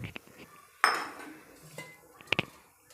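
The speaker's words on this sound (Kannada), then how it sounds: "ಬಟಾಣಿ ಮತ್ತು ಕಡಲೆ ಸೇರಿಸ್ತಾ ಇದ್ದೀನಿ." Dry peas and chickpeas go into a pressure cooker as a quick rattling pour, with scattered metallic clinks and clanks of the pot and utensils before and after, close and fairly quiet.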